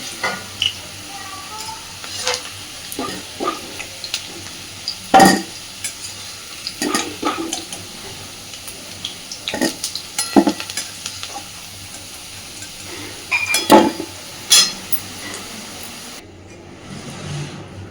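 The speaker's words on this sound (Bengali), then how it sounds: "সুন্দর করে আলুগুলোকে আগে ভেজে তুলে নেব।" Potatoes fry in oil in a pan for a vegetarian cabbage dish, giving a steady sizzle with frequent scraping and stirring knocks from a spatula, close and fairly loud, with no talk.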